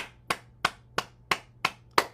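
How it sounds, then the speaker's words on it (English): Hands clap six times in a steady, evenly spaced rhythm during a gentle bouncing exercise, each clap sharp and close with a short ring-off and no talking between. "Clapping."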